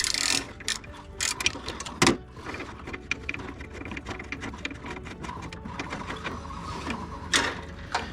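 Close-up clicking of a 13 mm ratchet socket wrench loosening a bolt on a Volkswagen Golf 2, cranked in quick bursts with occasional sharper metallic clacks between strokes.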